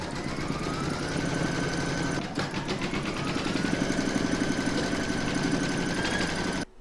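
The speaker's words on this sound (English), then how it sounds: "You're now going to pop this back into your machine and stitch round number five" An in-the-hoop embroidery machine stitching a fabric pencil case, running steadily with a fast, even mechanical stitching rhythm and whirring motor, close and continuous for several seconds before stopping abruptly.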